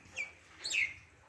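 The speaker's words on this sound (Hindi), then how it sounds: "वहाँ पे चिड़ियाँ आ गई हैं, खेल रही हैं" Small birds give a few high, sharp chirps out of doors while pecking at lentils dropped on the ground, the calls brief and moderately close over a quiet background.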